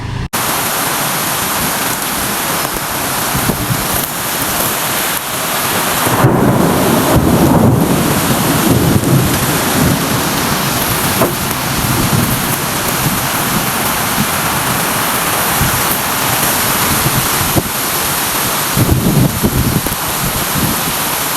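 Heavy rainstorm at night in Dhaka, a dense steady roar of rain and wind that swells in louder gusts around the middle and near the end, continuous and close with no voices.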